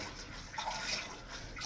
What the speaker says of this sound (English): squeeze it off in the squeezer